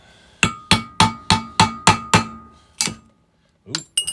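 Seven sharp, evenly spaced hammer blows ring out against Honda triple tree bearing races, followed after a pause by a couple of lighter metallic taps and scrapes, close and loud.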